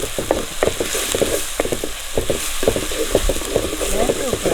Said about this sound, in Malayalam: അമ്മച്ചി ഇഞ്ചി വെളുത്തുള്ളി പേസ്റ്റ് ചേർക്കുന്നത് അതും കൂടി ചേർത്തങ്ങൾ വഴറ്റാം